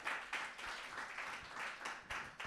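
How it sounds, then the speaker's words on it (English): A studio audience applauds on a talk show, a broad wash of many hands clapping that swells in waves and stays steady to the end, faint in level. "Yes, let's applaud."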